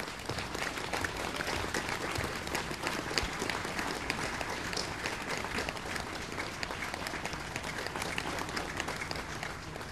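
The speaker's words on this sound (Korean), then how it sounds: "대통령님을 큰 박수로 단상으로 모시도록 하겠습니다." Sustained applause from a large audience at a Buddhist ceremony inaugurating a supreme patriarch, steady dense clapping filling the whole stretch without speech.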